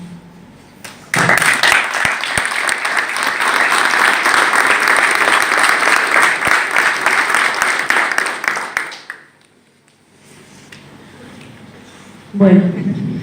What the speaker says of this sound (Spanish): Otro aplauso para todos.